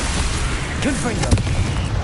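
A Confringo blasting spell detonates in a Hogwarts video game, a dense, roaring burst of explosive noise with a sharper boom partway through, while a voice talks over it.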